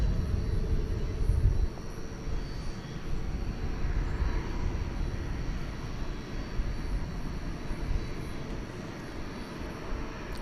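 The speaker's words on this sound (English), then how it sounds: "Another A350-1000, the Qatar flight to Doha, flight 732 enters our view" A Qatar Airways Airbus A350-1000 bound for Doha rumbles at night at DFW Airport, a steady low engine roar with a slightly louder swell near the start, fairly distant and continuous.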